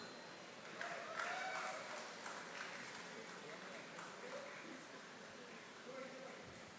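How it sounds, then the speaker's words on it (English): Audience applause continues during a biotechnology convocation ceremony at IIT Madras, a faint, steady patter of clapping running under a voice reading out graduates' names. "Keep up the applause."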